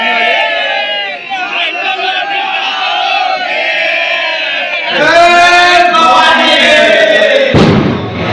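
A large crowd celebrates an election victory, likely outdoors, with loud sustained cheering, whoops and shouting voices; the roar swells higher after about five seconds and ends with a sharp burst of yelling.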